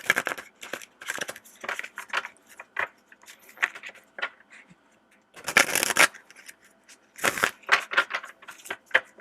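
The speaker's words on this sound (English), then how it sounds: "Let me just give it a good little shuffle here." Tarot cards are shuffled in quick crisp bursts, riffling and slapping close up, with short pauses between rounds.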